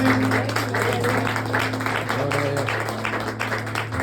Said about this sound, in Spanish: Dale un aplauso.